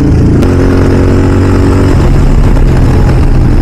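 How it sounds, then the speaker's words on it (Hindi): Motorcycle engine that will not start properly, making an odd noise: a loud, close, rough mechanical drone with a wavering low hum and a sudden sharp crack near the start. "गाड़ी तो अजीब आवाज कर रहा है।"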